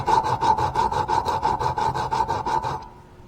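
Rusty metal being roughed up with sandpaper before attaching a wire for electrolysis rust removal, a close, rapid back-and-forth rasping of about a dozen strokes in steady rhythm, ending abruptly into quiet.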